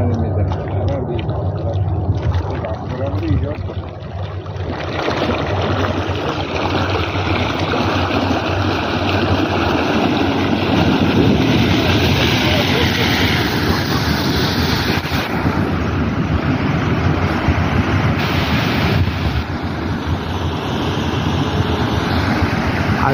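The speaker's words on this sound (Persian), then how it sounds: "حداقل 10 متر آب پرتاب میشه" A ground blowhole gushes water and air upward at least ten metres, a steady loud whooshing roar with wind buffeting the microphone, swelling and holding for the whole stretch.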